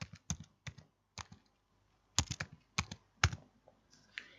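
Computer keyboard typing a search into ArcGIS Pro, in bursts of close, crisp key clicks with a short pause in the middle.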